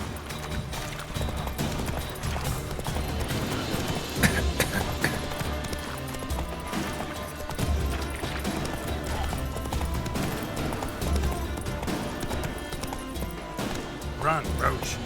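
Roach, a horse in The Witcher 3, gallops with rhythmic hoofbeats and an occasional whinny, mixed under game music, effects and speech throughout.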